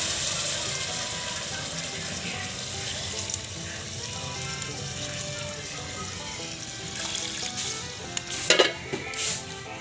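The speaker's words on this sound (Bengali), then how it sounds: "এবার আমি জল দেব।" Water poured into a pan of sizzling mutton curry cooked with potato and apple, a loud hiss of frying and stirring followed by splashing and bubbling surges near the end.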